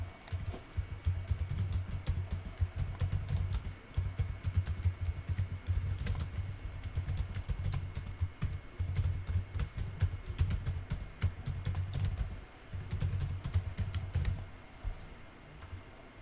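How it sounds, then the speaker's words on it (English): Steady typing on a computer keyboard, a continuous run of close, brisk key clicks with brief pauses, no talking. "Just typed a welcome message to those of you who are watching."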